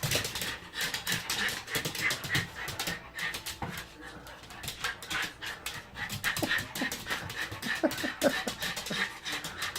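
A dog pants rapidly and whimpers with excitement as its owner comes home, close to the microphone, with occasional yips, while a person talks to it in an excited voice throughout.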